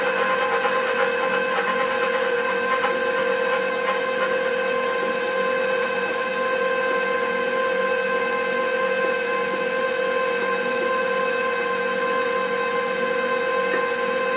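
Electric mixer beating flour into Kentucky butter cake batter, a steady, loud motor hum with a constant pitch and whine that runs unbroken and alone for the whole stretch, with no voices.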